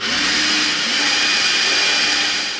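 A power drill whirs steadily at close range as a bit bores into EVA foam for a craft pickaxe, one continuous loud motor whine without pauses.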